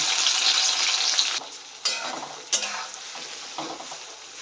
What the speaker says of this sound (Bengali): এই তেলের মধ্যে কুচানো পেঁয়াজগুলো দিয়ে দিচ্ছি